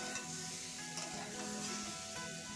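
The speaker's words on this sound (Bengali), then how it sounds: "জিরে গুঁড়ো সব কিছু দিয়ে বেগুনটাকে একটু একসাথে ভেজে নিচ্ছি" Eggplant frying with cumin powder in a pan, a steady close sizzle with occasional stirring scrapes running throughout without speech.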